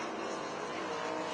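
A race car runs on a short-track speedway during a GLSS race, a steady, fairly faint engine drone that holds constant for a brief moment without pauses.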